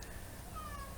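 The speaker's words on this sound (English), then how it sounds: "If you hear a cat meowing," A house cat gives a short, faint meow indoors, heard alone with no talking over it.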